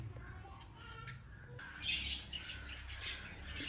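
Chicks in a nest give faint, high, thin chirps, a few brief calls that grow slightly busier partway through, heard against a quiet outdoor background.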